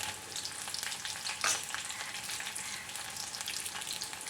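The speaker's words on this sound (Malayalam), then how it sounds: "നാല് വറ്റൽ മുളക് ചെറുതായി മുറിച്ചതിട്ട് കൊടുക്കാം" Shallots, dried red chillies and fenugreek sizzle steadily in hot oil, a dense close crackle with a brief louder spatter as something is stirred in, and no voices over it.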